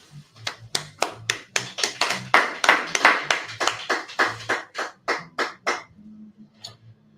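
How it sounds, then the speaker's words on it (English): Rhythmic group clapping for the teacher at an ISUPK gathering, about fifteen loud, evenly spaced claps in unison that slow and fade near the end, with low voices beneath. "Clap it up for the teacher."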